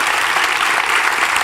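An audience at a business and philanthropy event gives a round of applause for Clarence, steady dense clapping throughout with no talk.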